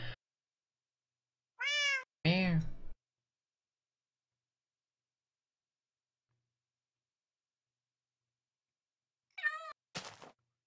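A house cat meows a couple of times close by, then falls quiet for several seconds before a further meow and a brief sharp noise near the end.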